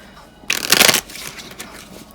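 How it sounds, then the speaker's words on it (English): A tarot deck is shuffled by hand, one quick riffling burst of cards lasting about half a second, followed by fainter rustles as the deck settles, close and clear. "you can take your deck and then flip your cards and shuffle them in"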